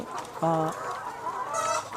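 Laying hens on an egg poultry farm cluck in one loud, close, harmonic burst, with softer clucks and general flock murmur around it.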